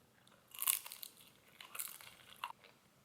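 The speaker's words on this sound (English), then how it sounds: "that outside skin is super, super crunchy" Someone bites into crunchy deep-fried meat jun at Mama Woo's, giving a few quiet, crisp crunches followed by softer chewing, close to the mic with no talk.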